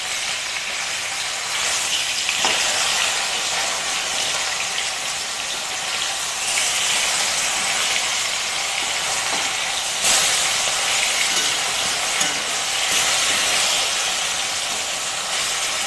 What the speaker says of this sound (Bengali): মাছের 1 পিঠ ভাজা হয়ে গেলে তারপরে উল্টে দেব।